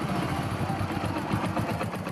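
A motorbike engine converted to run on gas idles steadily, with a continuous low pulsing chug that fills the whole stretch without a break.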